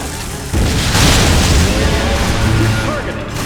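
Missile fired and detonating in Metroid: Other M, a sudden heavy boom that swells into a loud rumbling blast lasting a few seconds, with a brief voice underneath.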